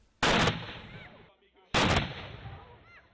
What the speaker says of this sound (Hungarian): A tüzérségi bemutatókon a Nádasdyivár falai újra visszhangozzák a kanoncos puskák ropogását